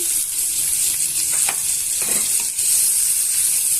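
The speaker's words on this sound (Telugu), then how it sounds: "సన్నగా తరిగి పెట్టుకున్న ఉల్లిపాయ ముక్కల్ని పచ్చిమిరపకాయ ముక్కల్ని వేసుకొని వేయించుకోవాలి" Onion and green chili pieces fry in hot oil with a steady, close sizzle. A few brief stirring scrapes land in the middle, and no one speaks.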